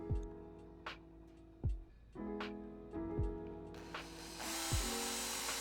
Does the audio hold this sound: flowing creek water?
no